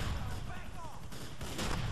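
Police gunfire in the video game GTA 4: The Ballad of Gay Tony, a dense burst of distant-sounding shots over a rumbling game soundtrack, with no clear speech.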